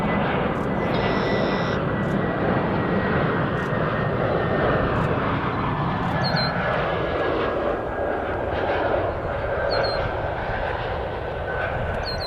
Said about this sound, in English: 321neo, Air Transat to Glasgow.